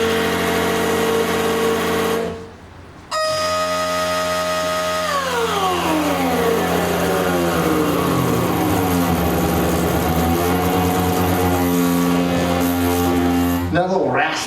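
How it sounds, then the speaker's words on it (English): A Rossum synth module playing a stereo violin patch, each half of the stereo phase modulating the other, giving a sustained buzzy harmonic drone with pitches gliding downward and a raspy edge, cut by a short dip before resuming loudly. "It's a stereo violin, or each half of the stereo is modulating the other one."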